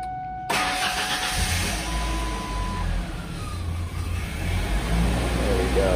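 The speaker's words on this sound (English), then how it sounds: "just gonna make sure the car starts and runs fine" Engine of a 1994-1997 Mazda B2300 pickup, just after fuel pump and filler neck replacement, cranks and catches, then runs at a steady, close idle with a high whine above it.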